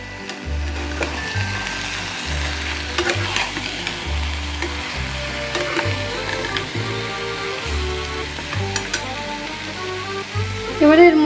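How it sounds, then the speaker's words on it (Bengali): Oil-free chicken curry with spices being stirred and sautéed in a pan, a busy sizzle with repeated rhythmic scraping and knocking of the spoon against the pan, close and fairly loud. "এটা একটু টাইম নিয়ে নিয়ে কষিয়ে নিতে হবে"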